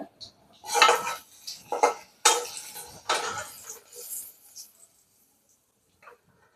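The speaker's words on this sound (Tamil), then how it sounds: "இந்த மாதிரி கிண்டி கொடுத்துக்கலாம். நல்லா ஃப்ரை ஆயிடுச்சு பாருங்கள்." Mango pieces being stirred in oil in a pan for a Kerala-style pickle: a handful of close, scraping metal clatters in quick bursts, then near silence with a faint clink at the end.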